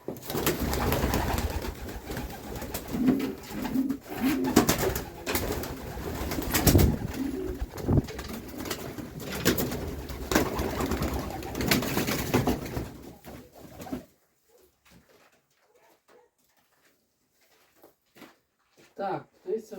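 Continuous throaty cooing from a group of pigeons in a new dovecote with some talking mixed in, then it cuts to near silence with a few faint knocks.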